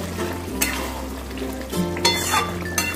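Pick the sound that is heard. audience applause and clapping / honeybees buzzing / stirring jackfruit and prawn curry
stirring jackfruit and prawn curry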